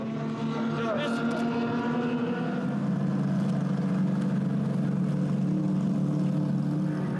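The powerboat Negotiator, powered by two 8-litre Lamborghini engines, roars steadily and loudly at full throttle, its deep droning engine note holding throughout with a rising pitch early on.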